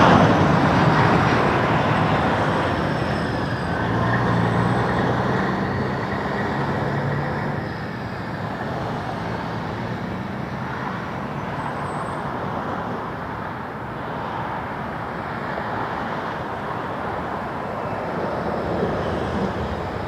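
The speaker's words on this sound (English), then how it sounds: "let's get this WestJet coming in" A WestJet airliner coming in to land at Toronto Pearson Airport, a loud broadband engine roar that holds steady for twenty seconds before easing slightly, with no voices.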